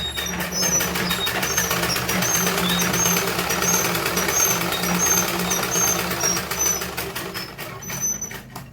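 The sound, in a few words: sewing machine stitching salwar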